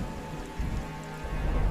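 Heavy rain pouring down steadily and without pause, a dense continuous wash of falling water with a faint low rumble beneath, like a storm downpour.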